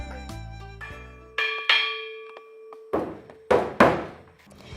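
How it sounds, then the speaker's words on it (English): A bronze bell in a Chinese temple in Sabah rings out in several struck tones, each ringing strike followed by lingering overtones, with deeper thuds and taps in between and no talking. "One such treasure is the bronze bell"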